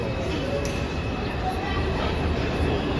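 An R142A 6 train on the New York City subway rolls along the rails, a steady loud rumble and roar of the car filling the whole stretch with faint squeal and clatter on top.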